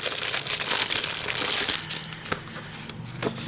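Sheets from a Beautiful Baubles craft paper pack crinkle and rustle as they are handled up close, a dense crisp burst in the first half easing into softer, scattered crackles.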